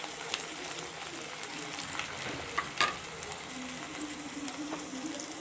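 Two large onions fry in hot oil in a pan, a close, constant sizzle like light rain with scattered pops and a few stirring clinks.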